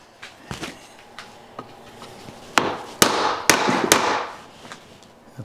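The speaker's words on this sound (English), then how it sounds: "Now I want to grab a hammer because that doesn't feel like it's going together the way it should." A hammer knocks a wooden drawer joint together during hand joinery: a series of sharp, irregular wooden blows close by, quieter taps early on and several loud, ringing strikes in the second half.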